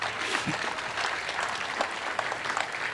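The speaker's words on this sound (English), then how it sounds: "please put your hands together and give them all another round of applause" A crowd applauds competition participants at a national climate change week closing event, with continuous, even clapping of moderate loudness filling the short moment.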